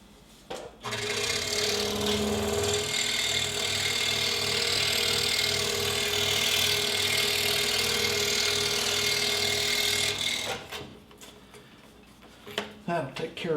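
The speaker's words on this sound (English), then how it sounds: "cut this hanger hole right here with the scroll saw" A scroll saw cuts a hanger hole in a wooden name ornament, its reciprocating blade giving a steady, rapid mechanical chatter with a motor hum, running continuously for about ten seconds before stopping, followed by brief handling noises.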